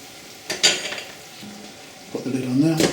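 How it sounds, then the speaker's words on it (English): Lamb stock ladled into a pan for shepherd's pie, with a metal ladle clinking against the pan and a brief sizzle and stir, fairly close; no talking. "I'm going to add 1 ladle full of my lamb stock"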